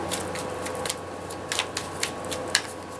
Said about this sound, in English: I'm an aggressive shuffler.